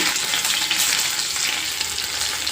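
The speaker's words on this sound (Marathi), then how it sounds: "मोहरी तडतडली त्याच्यामध्ये अर्धा चमचा जिरे घालून घेते" Mustard seeds, cumin and crushed garlic frying in hot oil make a steady, bright sizzle with faint crackles, close and continuous throughout.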